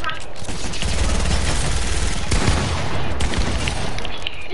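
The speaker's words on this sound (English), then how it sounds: "I'm using the MP5 and the dual" Dense rapid gunfire from an MP5 submachine gun and a dual shotgun pistol in Fortnite, continuous loud bursts and blasts filling the whole stretch.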